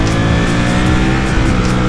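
Ducati Panigale V4S motorcycle engine revving hard and steady, a loud, dense roar with pulsing throttle surges, heard up close and alone without talk.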